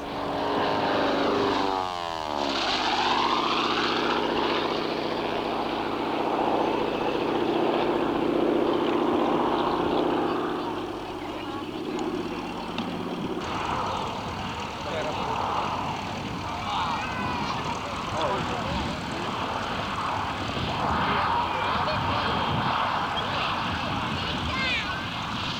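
Propeller aircraft making a high-speed pass at a 1984 air show in Masterton, New Zealand, a loud engine roar sweeping past with a falling whine, then a lower lingering drone as a commentator talks over it.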